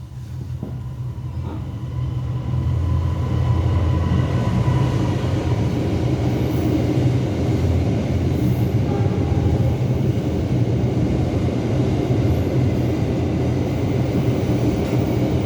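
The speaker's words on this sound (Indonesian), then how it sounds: "Kereta setiap hari berapa kali, Van?" A train passes nearby, building from a quiet start into a loud, steady rumble of wheels and carriages that lasts for over ten seconds with no talking.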